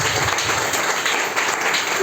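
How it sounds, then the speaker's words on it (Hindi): Loud, continuous applause from an audience at a seminar gathering, a thick even wash of clapping filling the whole stretch without pause or talk. "सभी के लिए एक बार जोरदार ताली।"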